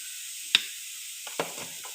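Coriander and chili powders sizzle in a pan for a lotus bud roast, with a steady high hiss broken by two brief clinks of a spoon.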